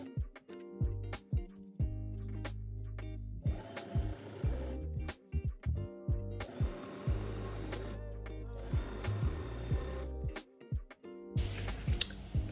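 Sewing machine stitching a jacket waistband in several bursts of fast, even mechanical whirring, close and clear, separated by short pauses and clicks.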